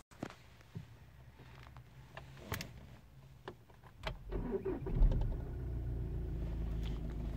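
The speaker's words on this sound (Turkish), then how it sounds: "Şimdi arabayı bir çalıştıracağım." A VW Golf 7 being started after a fuel filter change: quiet clicks and mechanical ticks, then the engine cranks and catches around the middle, settling into a steady low idle.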